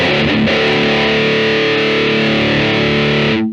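A 2014 Gibson DJ Ashba Signature electric guitar on the bridge pickup with the tone rolled fully off, one loud distorted chord ringing and sustaining before cutting off abruptly.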